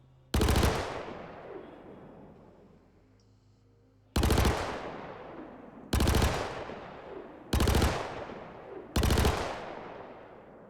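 Five sharp, loud bursts of gunfire with ringing decay, spaced irregularly a second or two apart, from a Klaus and Werner Lumin V submachine gun in Star Citizen; no speech.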